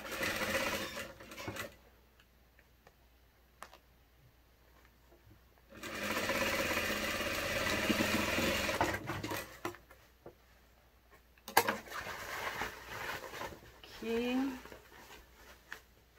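Sewing machine stitching a small backpack, its motor running in short bursts of steady whirring separated by pauses, with one longer sustained stretch of stitching in the middle.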